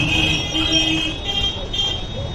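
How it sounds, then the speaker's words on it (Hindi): Busy Indian street traffic with a continuous high car horn blaring alongside engine rumble from cars, buses and trucks, loud and close. "यहाँ पे आपको बहुत सारा हॉर्न का शोर आएगा, सुनाई देगा"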